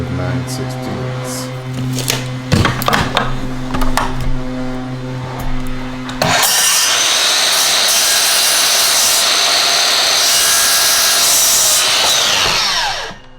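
A power saw cuts a wooden door trim piece. The loud, steady cutting roar runs for about seven seconds and ends abruptly. Before it, a lower humming, clattering stretch plays with some talk.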